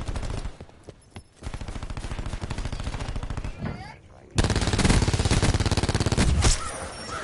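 Sustained rapid automatic gunfire in Call of Duty Black Ops 4, shots punching through a wall, rattling loudly and continuously with a brief lull before an even louder, denser burst.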